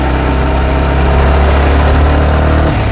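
A motorbike engine drones loud and close throughout as the rider works up through the gears, with a slight change in tone near the end.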